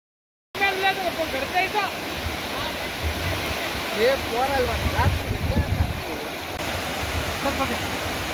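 Floodwater rushing across a road near a cut-off hamlet, a loud continuous roar and churn that fills the scene, with excited voices calling out over it throughout.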